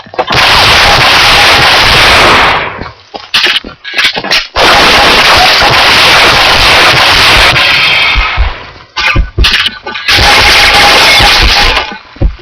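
Desert Eagle pistol fire in the video game Combat Arms, pistol arena on the map Karagoth: loud, dense bursts of shots in three long stretches, broken by short gaps of quiet.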